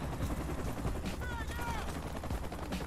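Dense, continuous bursts of automatic gunfire in a video game, loud and close, with crackling shots throughout and a voice talking over the action.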